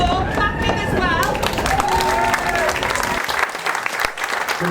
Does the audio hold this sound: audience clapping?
yes